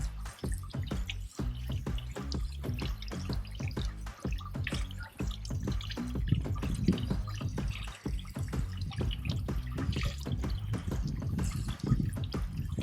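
Cold water drips and splashes in quick, irregular patters while rinsing a car air filter, with a steady trickle underneath, close and fairly quiet.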